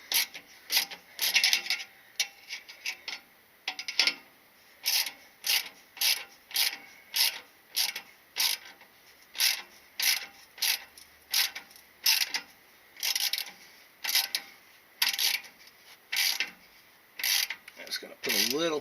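A self-locking nut on a V-band clamp turned by hand with a wrench, giving a long run of regular metallic ratcheting clicks in short strokes, close and fairly quiet.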